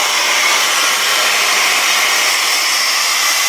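A pressure canner vents steam in a loud, steady, hissing rush that stays constant from start to finish with no pauses and no voices.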